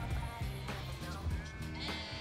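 Sheep of several mixed breeds bleat repeatedly during shearing, close and loud, with overlapping calls over steady shearing-shed noise.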